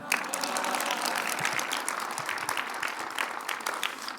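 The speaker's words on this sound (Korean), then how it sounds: "박수." A church congregation claps steadily in dense, sustained applause, many hands at once filling the space without pause.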